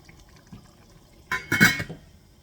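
Water that red pepper soaked in is poured into a pot for spicy sausage rice: a short, close splash of liquid lasting about half a second after near silence.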